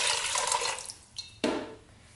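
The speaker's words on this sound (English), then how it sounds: "We're gonna add 3 cups of water to the inner pot" Water pours steadily into the inner pot of an Instant Pot Duo Nova pressure cooker, a soft, continuous splashing that tapers off, followed by a couple of light clunks near the end; fairly quiet and close.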